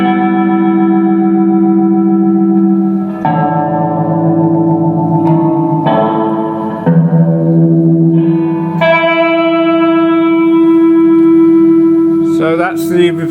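Leslie 910 rotary speaker with reverb and fast tremolo, sustained organ-like tones that shift pitch in several steps, pulsing and reverberant, loud and alone with no speech.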